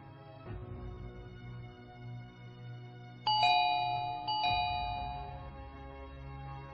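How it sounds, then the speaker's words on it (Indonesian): A house doorbell rings out a clear two-note ding-dong chime that decays over a low background hum, used as a sound effect in an Indonesian audio novel. "Ia melangkahkan kaki perlahan mendekati pintu rumah itu, dan menekan bel."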